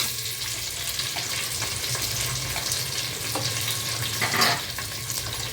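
One large chopped onion fries in a pan for a mutton curry, giving a steady close sizzle with soft scraping stirs and a brief louder crackle near the end.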